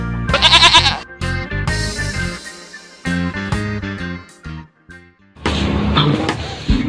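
A goat in a Sundanese rural village bleats several times in loud, wavering bursts separated by brief pauses, close to the listener.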